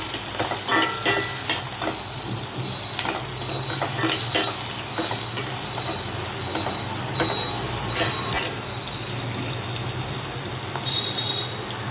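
Onions with green chillies frying and sizzling in a pan for paneer curry, a steady close hiss with occasional stirring scrapes and clinks throughout, no voices.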